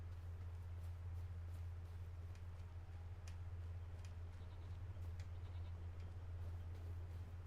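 Goats bleat in the farm video game Farming Simulator 25, a few short, faint calls scattered over a steady low hum.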